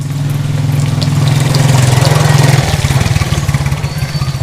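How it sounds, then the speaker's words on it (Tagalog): A motorcycle engine runs close by, a loud steady mid-pitched putter that rises slightly and then settles into a pulsing idle. "Ayan, may motor."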